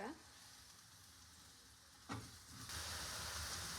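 Curry leaves and coriander leaves go into a simmering Kerala Alleppey fish curry, with a quiet sizzle that flares suddenly, then settles into a louder, continuous frying hiss as they hit the hot pan.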